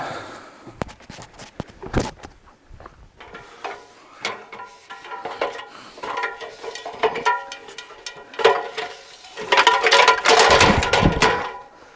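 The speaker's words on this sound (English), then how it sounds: "I'm gonna come along and screw this on" Part being screwed on by hand at an off-grid cabin: close, irregular scraping, clicking and ratcheting mechanical sounds with handling knocks, growing busier and louder toward the end.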